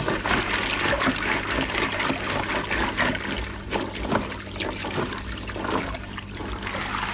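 Koi pond filter media in mesh bags is rinsed and shaken in water, making continuous close sloshing, splashing and trickling with no voices.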